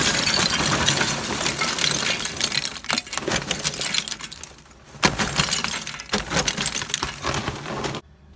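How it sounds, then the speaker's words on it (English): Charcoal being poured into a Pit Boss ceramic grill, a loud clattering rush of lumps tumbling and clinking onto each other in several bursts with brief pauses, close up and ending abruptly. "let's go ahead and add our charcoal."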